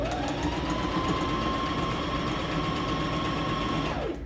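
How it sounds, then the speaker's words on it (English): Sewing machine stitching a seam allowance along a facing, running as a steady, continuous mechanical whir with a rising pitch at the start and a slowdown at the end, close and alone. "So I'm just sewing the seam allowance in the direction of the facing."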